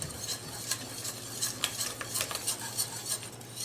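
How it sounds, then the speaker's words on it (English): Grated Parmigiano Reggiano being whisked into a cream sauce for steakhouse creamed spinach, with a steady rapid metallic scraping of the whisk against the pan and a faint simmer underneath, close and alone. "And you're just going to whisk that in, allow it to kind of melt, and get all good."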